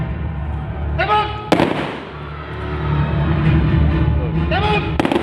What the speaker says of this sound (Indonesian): setelah dilakukan penembakan dengan menggunakan amunisi karet